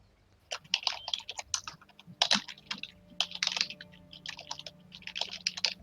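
Rapid, busy typing and clicking on a computer keyboard during an online esports match, with dense bursts of crisp keystrokes that pause briefly and resume, close and fairly quiet, with no talk.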